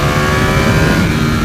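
A 2018 Ducati Panigale V4S engine revs hard and close, a loud, dense, sustained mechanical roar with no pause or talk.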